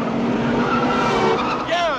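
A car speeds through a chase with tires squealing in rising and falling whines over a loud engine roar, close and continuous, with voices talking over it.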